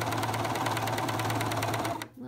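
A Juki combo sewing machine stitching a coverstitch hem runs at a steady fast whir with rapid needle ticks, close and even for two seconds before stopping abruptly.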